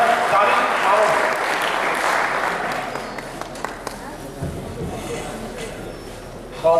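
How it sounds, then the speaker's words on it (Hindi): An audience at a poetry gathering breaks into loud, sustained clapping that gradually thins out, leaving scattered claps and quiet room noise, then a sudden bump at the very end. "जोरदार तालियों से आज के ज़ाहिर कलम और दानिश्वर का इस्तकबाल करें"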